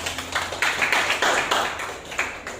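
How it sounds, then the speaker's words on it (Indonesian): Applause from a classroom full of students, a brief burst of rapid overlapping hand claps at moderate distance, fairly even in loudness before tapering slightly. "terima kasih, tepuk tangan."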